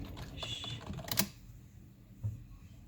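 A recipe search is typed on a computer keyboard in quick, faint key clicks. A short flurry of taps ends in a sharper keystroke, then a single tap follows in near quiet.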